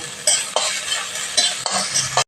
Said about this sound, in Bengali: আর একটু ধনে পাতা একটু ভেজে নেব।